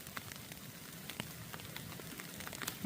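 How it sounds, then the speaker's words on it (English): Rain and hail patter on an umbrella sheltering beneath a spruce tree on a mountain thru-hike, a steady faint drumming with scattered sharper ticks from hailstones. "That's all the hail and everything."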